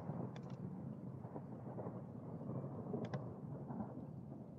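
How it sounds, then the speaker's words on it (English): Faint rain falls steadily outside, with low rumbles of distant thunder rolling beneath it. "It's raining outside."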